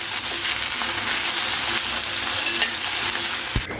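Okra frying in a small amount of oil in a kadhai, a loud continuous sizzle up close with scraping stirring sounds and no talking.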